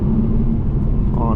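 The 4-cylinder engine of a 2022 Acura TLX A-Spec on a mountain canyon highway gives a loud, steady low rumble from inside the cabin as it accelerates.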